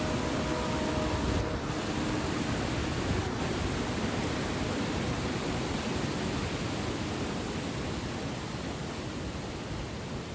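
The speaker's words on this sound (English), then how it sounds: "we headed towards the nearest waterfall" Waterfall in the Scottish Highlands on a rainy day, a steady, loud broadband rush of falling water that fills the whole stretch without letting up, with no voices over it.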